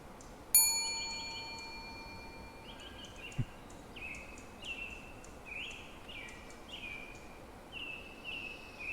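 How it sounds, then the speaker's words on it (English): In a video game, a single bright bell ding rings out clearly and decays slowly. Soft, repeated chirpy tones follow over a quiet background. "Ding the bell."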